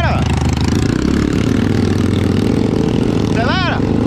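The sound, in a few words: motorcycle engine accelerating on a trail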